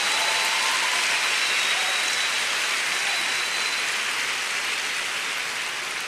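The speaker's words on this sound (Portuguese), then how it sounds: "Quem é filho, aplaude o Senhor aqui." A church congregation applauds in a dense, continuous roar of clapping that stays loud and even throughout, with no speech.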